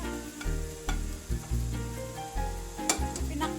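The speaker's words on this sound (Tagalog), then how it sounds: "pwede na nato ihalo ang atong ampalaya" Bitter gourd being stirred into a pinakbet vegetable stew, with a steady frying sizzle broken by several distinct stirring scrapes and clatters, close and moderately loud, with no talking.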